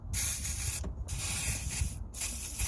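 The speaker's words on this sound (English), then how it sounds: "So before we undo it, we're gonna apply a bit of WD-40 on it." WD-40 is sprayed onto a reverse light switch on a VW Polo or Golf in three close, hissing bursts separated by brief pauses.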